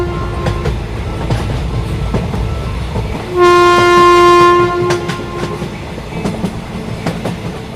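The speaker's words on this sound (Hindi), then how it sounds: "तभी ये ट्रेन शुरू हो जाती है" A cartoon train at a railway station lets out a long, loud horn blast over a steady clattering rumble of wheels and carriages as it starts to move.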